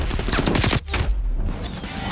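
Enemy sniper fire in a Call of Duty-style shooter rings out as a loud, close volley of rapid shots, then a brief gap and a rumbling tail, with no speech over it.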